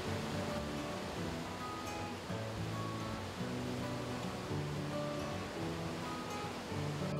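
Surf rolling steadily onto the Ōfunato coastline in Iwate, Japan, a continuous broadband wash of ocean waves with gentle swells, fairly loud and close, with no voices.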